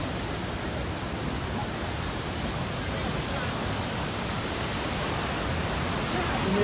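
A waterfall at a scenic tourist site roars as a steady, broadband rush of water that stays constant and loud throughout, with no clear speech on top.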